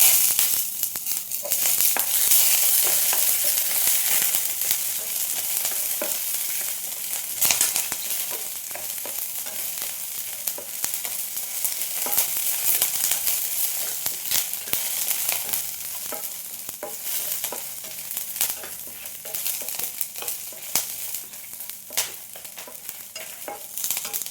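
Curry leaves and dried red chillies fry for Udupi rasam with a steady, loud sizzle and crackle in hot oil, sharp spits popping throughout and a spoon stirring now and then, no voice.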